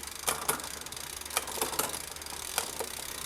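A bicycle rear derailleur shifts through the cassette gears, giving a series of crisp, close mechanical clicks, some in quick pairs, spaced irregularly over a quiet background.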